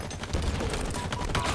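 Rapid gunfire bursts from a shotgun in the Halo Infinite video game's multiplayer combat, dense and continuous over layered game effects for under two seconds.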